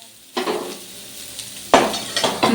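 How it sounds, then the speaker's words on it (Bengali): Raw green peas fry in hot oil in a pan, the sizzle surging twice as they are stirred, with scraping and light clinks of a utensil against the pan. "মটরশুঁটিগুলো হালকা করে ভাজবে"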